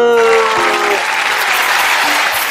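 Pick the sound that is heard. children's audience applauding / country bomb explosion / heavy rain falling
children's audience applauding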